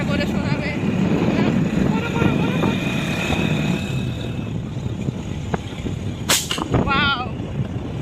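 A brother imitates a motorbike engine with his voice, producing a loud, continuous rumbling drone that wavers in pitch, followed by a brief higher whistle-like burst near the end.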